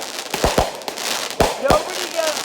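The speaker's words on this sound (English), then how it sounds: "nobody gets fireworks like this" Fireworks explode in a quick series of sharp, loud bangs and pops, some coming in close pairs, with a crackling wash between bursts.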